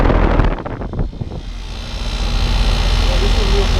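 A Goodman heat pump with a rotary compressor running loudly outdoors at a residential property, a steady close mechanical roar and hum with some knocking at the start and faint talk early on.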